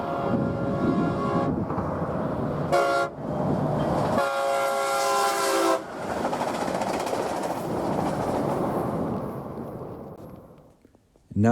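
Freight train rolling along rails near Santa Fe, a loud close rumble with clattering wagons and a couple of bright horn blasts partway through.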